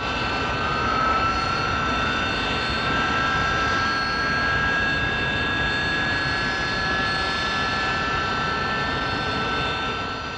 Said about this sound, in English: Onto a pad, nozzles deflected downwards, and the pilot opens up the jets.